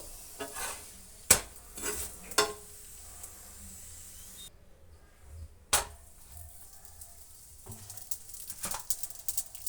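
Food fries in oil on a flat griddle: a soft, quiet sizzle broken by a few sharp scraping and stirring knocks, with short pauses between them.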